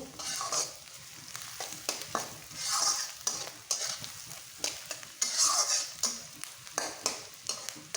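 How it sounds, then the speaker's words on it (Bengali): Eggs and slit green chillies fry in a pan for a spicy egg bhuna, a steady sizzle broken by repeated scraping stirs, close and fairly loud with no voices. "ভালো করে ভেজে নিচ্ছি। একটু নেড়ে দেব।"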